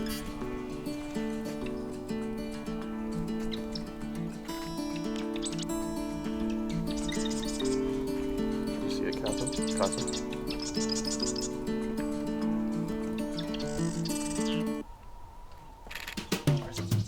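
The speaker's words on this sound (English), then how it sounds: "I was able to hear a ton of marsh wren" Repeated high, buzzy trilling marsh wren phrases under a steady musical tone bed, several songs in sequence at moderate distance, in Oregon.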